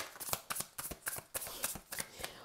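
Tarot cards shuffled by hand, a quick run of crisp riffling bursts and soft slaps in steady rhythm, close and quiet with no talking.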